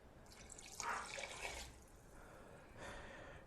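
Water poured into a pot of jambalaya: a faint splashing and trickling stream that comes in bursts, fades, then returns briefly, with no talking.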